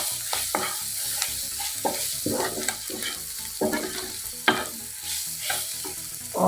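A spoon stirs red chili powder and cumin frying in a pan, with scraping strokes repeating roughly every second over a steady sizzle, close and fairly loud.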